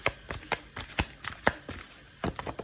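Tarot cards shuffled by hand, a steady run of soft papery riffles and flicks with brief pauses between, close and quiet, no talking.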